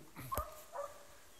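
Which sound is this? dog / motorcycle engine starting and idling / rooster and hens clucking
dog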